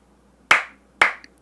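Two sharp hand claps ring out about half a second apart, close and crisp in a quiet room, each followed by a short decay.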